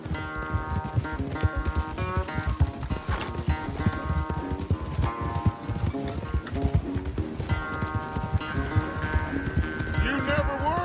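Horse hooves galloping fast during a race in Red Dead Redemption 2, a steady rapid clip-clop rhythm close and loud throughout under game music, with voices talking over it.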